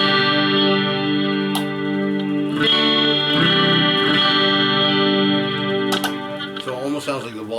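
A Falconstein electric guitar run through delay sustains chords with a droning, layered tone, with a few sharp pick attacks and a shifting tone change near the end.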